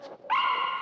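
Puppy in the horror film Evilspeak giving a single short, high yip-like bark after a faint soft sound, close and clear with nothing else behind it.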